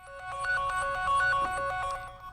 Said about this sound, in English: A really loud, irritating ringtone.